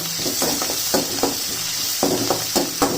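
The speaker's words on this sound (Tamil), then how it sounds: "எல்லாம் ஒன்றா போட்டு நல்லா எண்ணெயில் வதக்கிடுங்க." Chopped onions and curry leaves sautéing in hot oil, a continuous loud sizzle broken by quick scraping stirs against the pan, heard up close without any voices.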